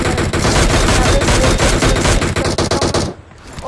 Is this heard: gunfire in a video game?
yes